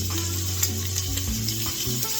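Burgers sizzle in a non-stick pan, a steady close frying hiss with faint scraping and low tonal hum underneath, no voices.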